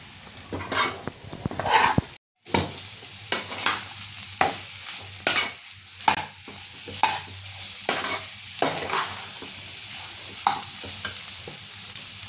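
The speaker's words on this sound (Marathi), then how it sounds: "मी त्यात आता मीठ घालते आणि हे सगळं एकदा हलवून घेते।" A salted potato mixture for vada pav stirred with a spoon in a pan, repeated scraping strokes at an uneven rhythm over a soft sizzle, close and clear with no talking.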